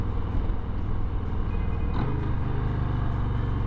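A Harley-Davidson motorcycle at a demo truck event runs with a deep, steady, rumbling idle. A short rising rev swells near the middle, and the engine sounds close and fairly loud, with no talking.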